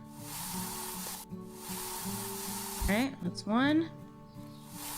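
Two short bursts of hissing aerosol spray, each with rising squeaky tones, sound over a steady humming game backdrop in the survival game I Am Future, and a voice talks briefly between them.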